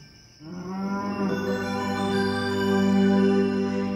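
A long, low bellowing moo that swells and holds steady, loud and close, with no other sounds around it.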